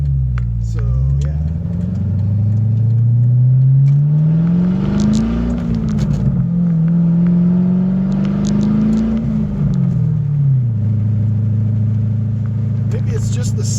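A 2004 Pontiac GTO engine drones steadily through a new exhaust, its pitch climbing and falling through a couple of revs before easing back, loud and close throughout.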